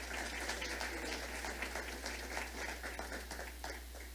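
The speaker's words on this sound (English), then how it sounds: "Can I just get a round of applause for Deputy Mayor Torres Springer?" Audience applause at a New York City panel event on employers and access to good jobs, a steady wash of many hands clapping at moderate distance, fairly faint and continuous throughout with no voices over it.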